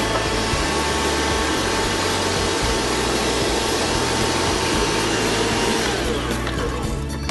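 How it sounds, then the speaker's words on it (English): An electric mixer beats eggs with sugar into a light, fluffy batter for red velvet cupcakes, with a loud, steady motor whir and a dense whipping roar that runs on without pause and carries no speech. "The first step is to beat some eggs with some sugar. We're going to beat that until it's really light and fluffy."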